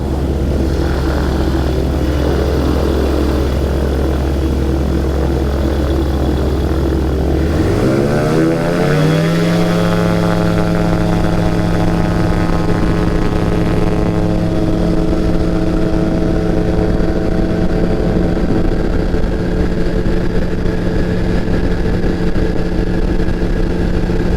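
A light aircraft takes off from runway 29, departing to the west. Its engine rises sharply in pitch and loudness early on, then holds a loud, steady propeller drone close by for the rest of the takeoff roll and climb.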